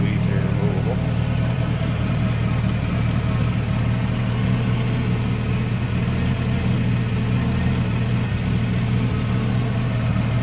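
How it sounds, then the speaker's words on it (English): The engine of a 1934 Ford Roadster street rod idles smoothly and steadily, a close, even low hum and whir that holds for about ten seconds. "Nice running, good sounding engine."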